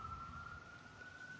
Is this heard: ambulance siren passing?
yes